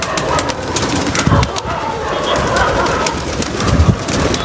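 Rain-soaked pigeons coo close by during the monsoon in low, repeated throaty calls, with a few sharp flutters and clicks scattered through.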